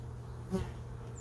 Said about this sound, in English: There are already some bees already up here.